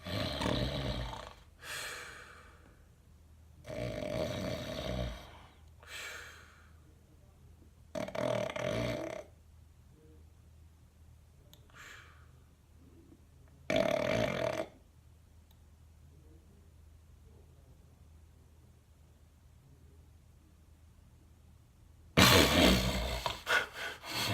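A voice imitates the loud, rasping snoring of sleep apnea in several long rattling bursts separated by quiet pauses, ending with a sharp, harsh gasp.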